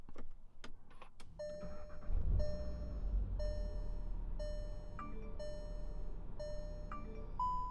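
A 2019 Volkswagen GTI is fired up with its push-button start: a few sharp clicks, then the engine catches with a low surge and settles into a steady idle beneath a series of repeated electronic chime tones.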